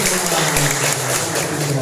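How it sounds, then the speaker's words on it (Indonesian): Students applauding in a vocational high school classroom in Indonesia; brisk, dense clapping from a group, close and fairly loud, with a hum of voices and tones beneath. "Tepuk tangan untuk kalian"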